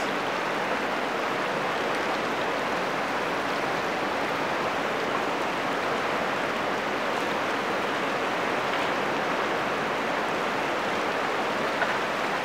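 A steady, dense rush of the fast-flowing Ganges river over rocks fills the whole stretch, loud and constant with no pauses.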